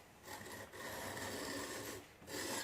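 A chisel rasping back and forth on a cheap $30 chisel sharpener to remove the burr, a close, steady scraping in two or three long strokes with brief pauses.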